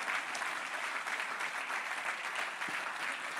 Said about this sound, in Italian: a cui vi chiedo di fare un grande applauso